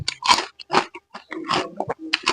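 Crispy pork crackling bitten and chewed up close, a series of sharp loud crunches in quick irregular bursts separated by brief silences.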